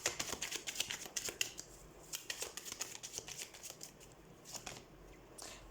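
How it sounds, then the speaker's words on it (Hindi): Tarot cards being shuffled by hand during a weekly reading: a continuous run of soft, rapid riffling and slapping flutters, close and fairly quiet, with no talking. "तो सबसे पहले हम कार्ड शफल कर देते हैं।"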